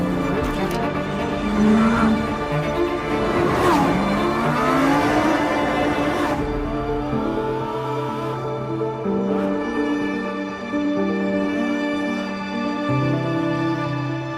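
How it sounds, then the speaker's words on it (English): A Lamborghini Huracán Sterrato drifts on gravel, its engine revving hard and shifting pitch as the car slides, with the loose surface scattering beneath, close and loud throughout without talk. "I feel like a child driving and drifting the Sterrato because it's so much fun."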